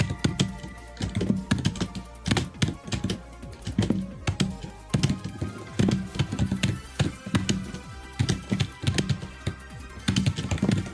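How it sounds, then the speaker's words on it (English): Computer keyboard typing in rapid, irregular bursts of clicky keystrokes, close and prominent, with brief pauses between flurries, as during a rhythm game stream. "You can literally hear my keyboard sounds"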